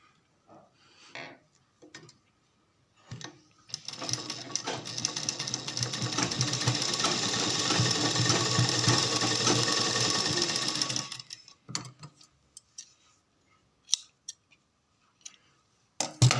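A sewing machine stitches a fabric strip onto a small baby's cap, a steady close whirring run of about seven seconds, framed by scattered clicks and handling taps before and after.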